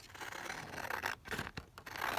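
Scissors snipping around a paper image cut from a coffee table book page, a close run of crisp, uneven cuts and scrapes at steady quiet level with brief pauses.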